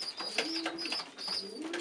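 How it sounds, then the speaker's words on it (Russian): Pigeons coo softly while feeding their chicks, giving repeated low, rolling calls at a moderate distance with a faint chirpy edge and no speech. "Вот голубь Николая Николаевича Шкабара."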